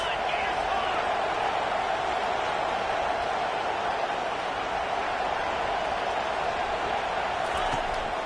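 Football stadium crowd at a college game with the Sooners produces a dense, constant roar of noise throughout, with a commentator's voice running over it.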